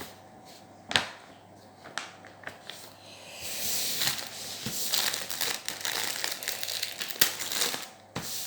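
Paper crinkling and rustling as it is laid back over a canvas while unboxing, with scattered sharp crackles and soft handling noises, close and fairly loud.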